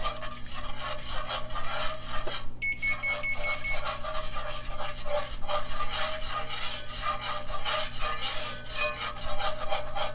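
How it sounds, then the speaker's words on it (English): Whole milk is whisked into a homemade sauce for green bean casserole: a loud, continuous, rapid scraping of whisk against pan that runs without a break, over a low steady hum, with one short pause. "So I'm going to add a 1/2 cup of whole milk. And we're going to whisk this together."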